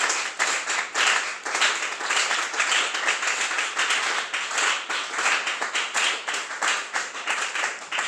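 A church congregation claps in a steady rhythmic beat during a Sunday service to acclaim the Lord, many hands together at moderate loudness with no talking over it.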